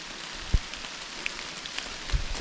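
Rain falls steadily in autumn woods during a hike, a soft constant patter with a few louder close drops and knocks.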